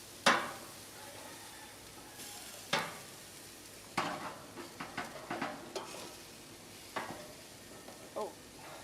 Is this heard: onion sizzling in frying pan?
yes